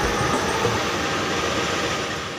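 A work train hauling a load of rails departs from track 2 at Manonjaya station, giving a steady, loud rumble of engine and rolling wagons that fades slightly toward the end.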